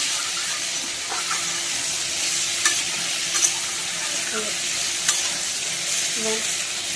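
Steady frying sizzle of a pan browning food until reddish, for a Bengali ol (elephant foot yam) and rohu fish curry, with occasional soft clicks of stirring over a constant hiss.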